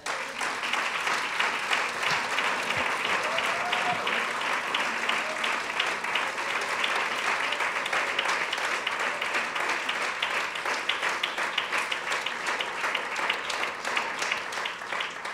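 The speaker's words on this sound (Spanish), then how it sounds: "Denle un aplauso al Señor" A church congregation gives a long, sustained round of applause, dense and even throughout, with faint voices rising briefly within it.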